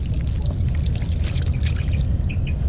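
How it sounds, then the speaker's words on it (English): Water poured into an outdoor bird feeder to flush it out, a continuous close trickling pour with a faint bird chirp in the background. "then you just pour some water in and flush it out."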